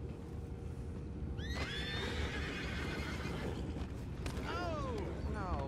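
A horse in the video game Red Dead Redemption 2 whinnies twice in clear neighs over a steady low rumble of game ambience, with speech around it.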